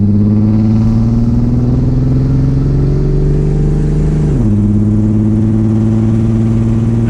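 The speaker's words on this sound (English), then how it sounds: "That's not me just gradually accelerating." A Ford Falcon, fitted with hydraulics, revs hard at full throttle close by, its loud, steady engine drone dipping briefly midway before pulling on strongly with no talk.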